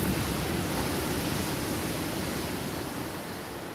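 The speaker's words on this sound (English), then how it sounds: "the sound of the waves crashing on the shore is going to help you sleep" Ocean waves wash onto a beach in a continuous, loud broadband roar that stays steady throughout, with no voices.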